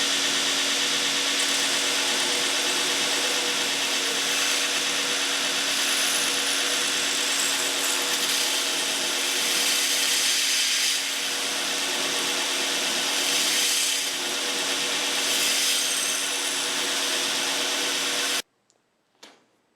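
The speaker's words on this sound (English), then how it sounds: "Using the belt sander" A belt sander grinds an edge bevel on a wavy-bladed dagger, a steady, loud abrasive whir with a humming tone that runs without a break for most of the stretch before cutting off abruptly near the end.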